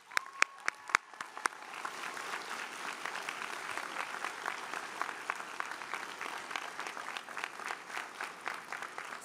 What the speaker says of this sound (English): Students, let's give our families a round of applause.